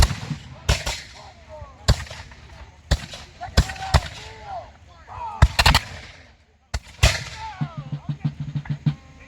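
Black powder muskets fire during a battle reenactment with British light infantry at Chase Farm. Loud single shots and ragged volleys crack at irregular intervals, some near and some farther off, with faint voices between them.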